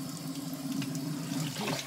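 Tap water pouring steadily into a metal pan in a kitchen sink while dishes are washed, a close, continuous splashing rush.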